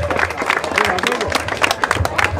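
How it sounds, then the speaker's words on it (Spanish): A crowd at a school ceremony handing band instruments to students claps in a lively, uneven patter, mixed with chatter and voices that continue throughout. "Ese aplauso"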